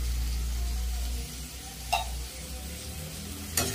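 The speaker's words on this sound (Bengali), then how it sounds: "আর ভালো করে মশলাটা কষিয়ে নেব।" Salt, turmeric and cumin powders being stir-fried in a pan for a tengra fish curry with spring onions and potatoes: a steady soft sizzle, close by, broken by two sharp ticks of a spoon against the pan.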